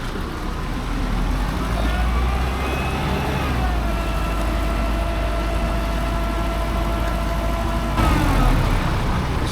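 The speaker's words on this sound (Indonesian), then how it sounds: "Sepertinya mobil kerennya mobil tua nih ya" An old, smoking car rolls past outside a market beside the road, its engine droning steadily under street noise and someone talking throughout.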